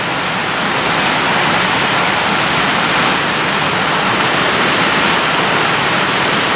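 Heavy rain falls on a farm with ducks sheltering against the house, a loud, steady hiss of downpour that stays constant and close throughout with no voices.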